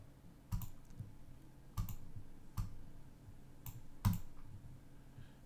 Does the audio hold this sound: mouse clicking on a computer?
yes